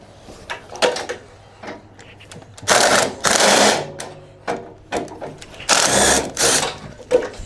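A ratchet on an extension rod works a nut loose on a ride-on mower, heard as close clicking bursts and bouts of rapid ratcheting that start and stop irregularly, with brief louder runs near the middle and end.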